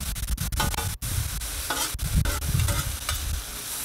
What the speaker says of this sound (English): give it a stir to check the bottoms, make sure they're not getting burnt